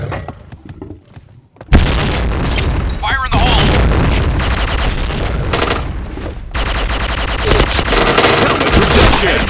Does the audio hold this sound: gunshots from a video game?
yes